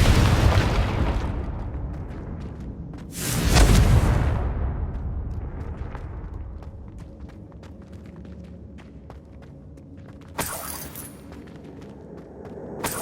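Confringo spell explosions in Hogwarts Legacy: a loud booming blast around the middle, then a quieter stretch with faint ambient game sounds before a second sharp burst near the end.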